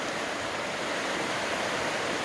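Gales Creek in the Oregon Coast Range flowing after good winter rain, a steady soft rushing of water heard from above, even and unbroken with no voices.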